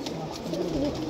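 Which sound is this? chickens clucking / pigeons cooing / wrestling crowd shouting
pigeons cooing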